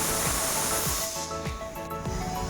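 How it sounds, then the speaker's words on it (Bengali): Hot cooking oil spatters and hisses in a pan after water drips into it. A loud, dense sizzle dominates at first, then thins into scattered crackles and pops. "তেলের মধ্যে জল পড়ে গেছে তাই তেলটা ছিটকে প্রায় বেশিরভাগ তেলটা পড়ে গেল"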